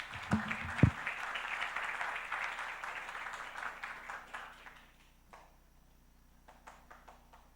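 A church congregation applauding during worship, the clapping fairly soft and gradually thinning out into scattered, separate claps by the end.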